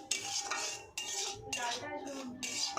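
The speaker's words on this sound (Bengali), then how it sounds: "সুজিটাকে এখন ভাজছি" Semolina being stirred while it fries in a pan, with rhythmic scraping strokes of a metal spoon against the pan repeating about every half second, close and clear with no talking.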